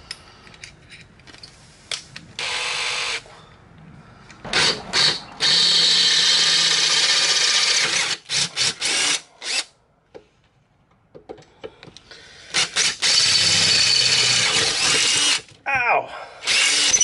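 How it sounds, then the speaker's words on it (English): Power drill opening a large hole while an ATV snow plow is being fitted, loud close whirring in repeated stop-start bursts, some long and some clipped short, broken by brief quiet gaps. "Now we're going to drill the big boy."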